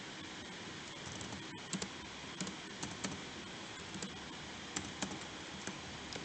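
Keys tapped on a computer keyboard while entering spreadsheet data, giving sparse, irregular clicks in small clusters over a quiet room tone. The typing is fairly close but soft, with no voices.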